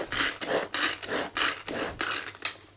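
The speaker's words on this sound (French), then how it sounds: "je vais pouvoir hacher mes pommes de terre en 2 temps 3 mouvements" A Tupperware Extra Chef manual chopper cuts potatoes in a run of about six rhythmic rasping, scraping strokes. The strokes are close and fairly quiet, with no talking.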